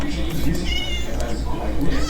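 A cat meows inside a Minecraft mod showcase, its short calls rising over a steady low game hum and soft background talk.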